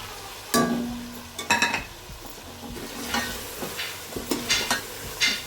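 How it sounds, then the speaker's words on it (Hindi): Ground spices and tomatoes sizzle in hot oil for a turnip and meat curry, with repeated stirring scrapes and clinks of a spoon against the pan at irregular intervals. "उसके बाद मसाले को इसके अंदर भून लेंगे।"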